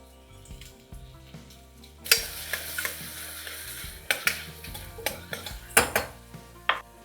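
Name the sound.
onions and green chili frying in oil with shahi jeera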